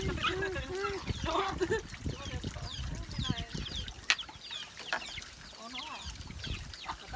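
Chickens cluck and peep close by in a rural home yard, with a voice talking near the start and scattered short calls continuing after.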